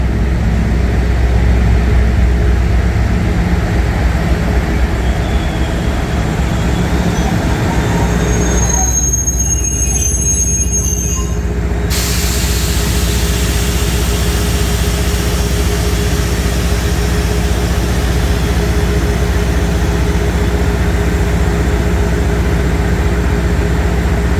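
A Class 56 locomotive at Crewe Station gives a steady, loud diesel rumble with wheels rolling on the rails. A high wheel squeal rises briefly midway, then the heavy drone carries on.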